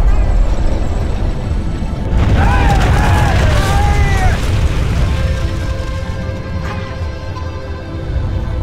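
Napalm strike explosions in Command and Conquer: Generals (Rise of the Reds mod) rumble as a loud, sustained roar of booming fire and bursts, with unit voice lines and game chatter heard over it.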